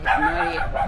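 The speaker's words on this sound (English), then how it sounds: "That's my dog." A dog lets out a short, close bark-like vocal yip, with a person speaking briefly over it.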